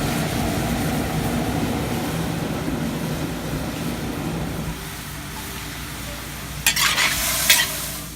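Beef stir-frying in a cast iron stew pot over a backyard burner gives a steady sizzling hiss that quiets midway, followed by a few sharp clanks of stirring near the end.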